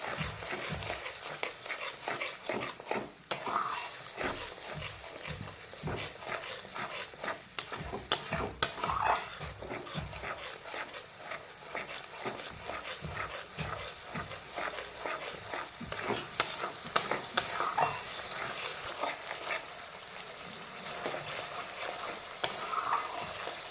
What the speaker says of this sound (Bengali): মশলা থেকে তেল ছাড়তে শুরু করেছে, আমাদের মশলাটা কষানো ঠিকঠাক হয়ে গেছে।